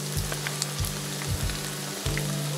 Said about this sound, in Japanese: だいたいこのフライパン1個で鶏肉1枚分が揚がるので2回揚げてますね。